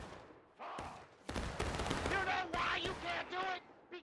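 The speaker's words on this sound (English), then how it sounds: "Nice volley, boys. Nice volley." Soldiers in War of Rights fire a musket volley, a burst of overlapping gunshot cracks followed by more scattered shots over rumbling battlefield noise, with voices talking through it.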